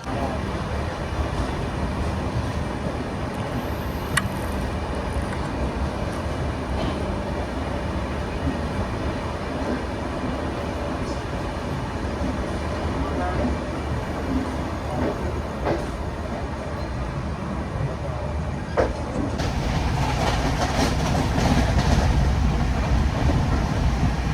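A Duronto Express train pulling out of Sealdah station produces a steady, moderately loud rolling rumble with faint wheel clatter and occasional clicks, growing a little fuller toward the end, with no talking.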